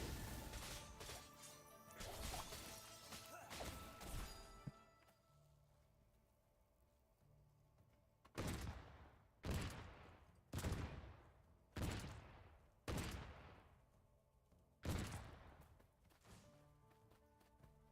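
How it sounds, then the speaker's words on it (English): Cannon fire in the video game Farever: a run of six sharp, loud booming blasts at a steady, roughly one-per-second rhythm, each with a short decaying tail, following a stretch of denser clattering game action. "we're getting so good at shooting the cannon"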